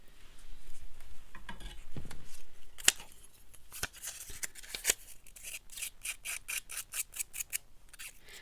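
Rough scuffing of a surface by hand, starting as irregular scrapes and rasps, then settling into a quick, even back-and-forth rhythm of short strokes, close and fairly quiet with no talk.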